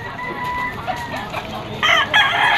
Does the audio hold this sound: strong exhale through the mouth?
no